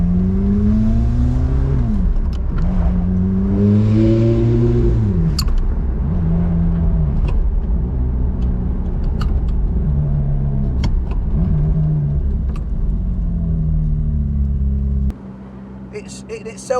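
Ferrari F430 Spider with a manual gearbox revving hard through repeated rising engine pulls, loud and close, with a person talking over the engine before it drops to a quieter idle.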